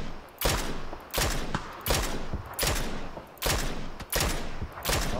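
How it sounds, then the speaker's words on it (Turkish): Heavy bursts of automatic gunfire in PUBG, coming in regular sharp volleys about every half second to second, loud and close, with the crack of each burst standing out clearly. "Abi arkadan vuruyor, arkadan bir yerden vuruyor lan"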